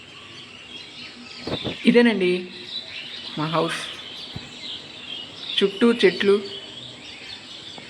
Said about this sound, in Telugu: కిలకిలా పక్షులు.